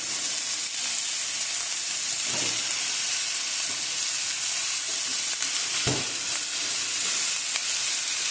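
Sausages fry in a pan with a loud, continuous sizzle and hiss, close up, broken by a couple of soft clunks of the pan or utensil, with no talking.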